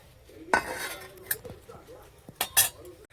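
A metal lid set down over a simmering pot of fish curry in a home kitchen, giving a few sharp clinks and clatters, close and fairly quiet, with brief scrapes in between.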